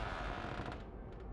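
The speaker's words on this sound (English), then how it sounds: "the door creaked open slowly" A door creaks slowly open, a faint, drawn-out groan of about a second and a half over a soft background hush, alone without any speech.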